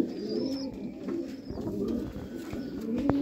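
Sialkoti black-faced pigeons cooing softly and repeatedly at close range, low throaty coos rolling on with faint chirps and some background noise.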